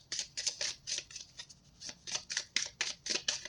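Quick bursts of crisp riffling and flicking, like cards being shuffled, repeating in short rhythmic bouts close by.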